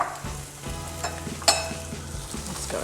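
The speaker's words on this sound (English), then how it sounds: "Now, our garlic, most of our garlic is cooking." Garlic and vegetables sizzle steadily in a hot pan as oxtail pasta is cooked, with a constant crackling hiss and a few light utensil scrapes.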